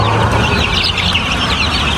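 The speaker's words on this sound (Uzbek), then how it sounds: "Jo'jamiz hozirgi mashhur jo'jamiz 20 kunlik jo'ja." A flock of 20-day-old black Andijan chicks chirps continuously in a dense, busy chorus of overlapping peeps, close and loud, with no talking.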